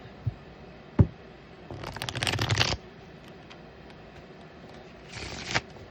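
A couple of sharp taps, then a quick riffle of shuffled tarot cards, a pause, and a second shorter riffle, heard up close with no talking.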